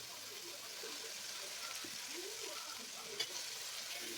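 Beans and carrots sizzle steadily in a hot pan, a soft continuous frying hiss with a faint clink of a utensil near the end.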